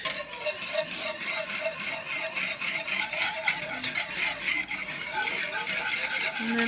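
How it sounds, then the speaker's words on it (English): Whisk stirring a homemade coffee creamer in a bowl, with steady scraping and tapping against the sides at close range, running without pause and without talk. "Since it says to blend it in, grab a whisk."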